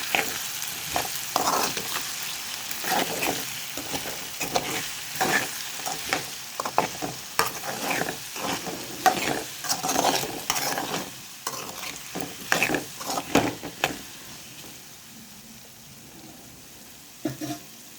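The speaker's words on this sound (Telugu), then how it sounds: "ఆయిల్లో చక్కగా ఫ్రై అవుతుంది. చక్కగా ఆయిల్లో ఫ్రై అయినాయి బంగాళదుంప ముక్కలు." Potato pieces fry and sizzle in hot oil, stirred now and then with steady scraping strokes, close and moderately loud with no talking.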